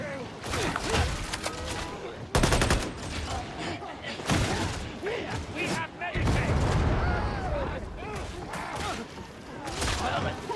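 Gunfire rattles through Warhammer 40K Darktide as a sustained, loud barrage: rapid automatic bursts, booming shots and clanking mechanisms. Voices talk and shout over the fighting.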